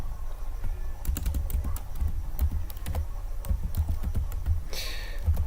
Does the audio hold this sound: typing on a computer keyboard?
yes